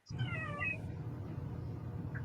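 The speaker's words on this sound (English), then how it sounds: "And there was a cat voice right there." A cat meows once, close and clear, a drawn-out tonal call from a Lego Masters TV episode, followed by a low steady background hum.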